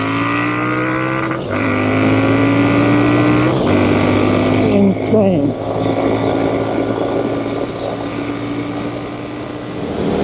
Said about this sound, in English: It's a wonderful motorcycle.